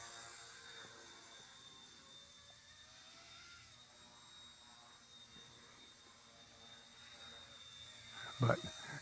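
An RC ERA C138 Pro stunt helicopter hovers and maneuvers in flight, its rotor giving a faint, steady high whine with a sharp thump near the end.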